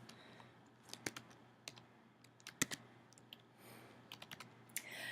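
Quiet, close keystrokes on a computer keyboard come in uneven bursts of sharp clicks with short pauses, in a calm indoor room without talk.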